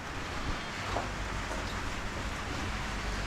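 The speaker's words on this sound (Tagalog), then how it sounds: "Lumakas na ang ulan." Heavy rain falling outdoors on a farm, a steady, dense hiss that fills the whole span without pause, fairly faint overall and with no voices.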